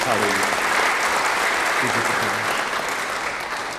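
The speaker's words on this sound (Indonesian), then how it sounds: "Beri tepuk tangan yang baik bagi dia" Sustained applause from a church congregation during a sermon, dense and steady throughout, with faint voices mixed underneath.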